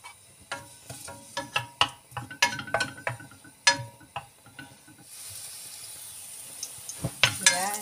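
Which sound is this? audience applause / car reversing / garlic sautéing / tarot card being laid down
garlic sautéing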